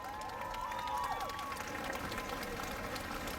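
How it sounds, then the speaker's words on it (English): Audience applause at the Coolum Beach Ironman Series race podium, a steady wash of clapping and crowd noise outdoors at a moderate, even level throughout. "Big round of applause."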